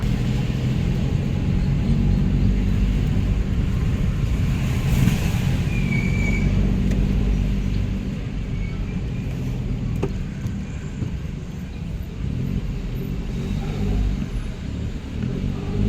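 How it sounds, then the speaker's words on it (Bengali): Cars pass on a mountain road in North Sikkim, a steady low engine rumble and road noise rolling on throughout, swelling and easing as vehicles go by with no talk. "আবার যে গাড়িগুলো নিচে যাচ্ছে সেই গাড়িগুলো কিন্তু পাশের লেন দিয়ে যাচ্ছে"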